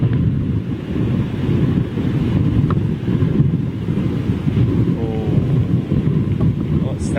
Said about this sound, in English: A big gust of wind there, man.